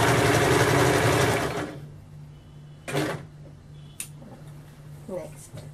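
A sewing machine stitching kameez lining runs in a fast, dense whirr for under two seconds, then stops, followed by a few faint clicks and handling sounds.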